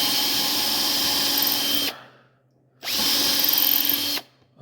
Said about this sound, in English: I got some tapered countersink bits that does this all in one step